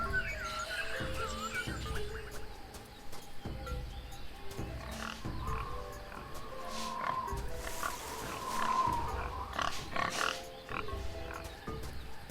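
A boar from the adventure game Tales of Monkey Island grunts and snorts repeatedly over a busy jungle ambience, with a layered animal chorus that rises briefly partway through; moderately loud, no talking.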